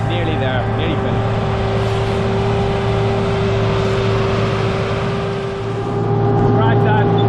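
A tractor baling hay in a field gives a steady, loud engine drone with a constant mechanical hum throughout, and brief rattling near the end.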